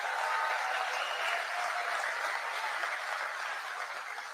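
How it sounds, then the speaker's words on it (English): Dense audience applause at a political rally in Fayette County, Georgia, a steady wash of many hands clapping at moderate distance, sustained for several seconds and fading slightly toward the end. "Let's give them a big round of applause."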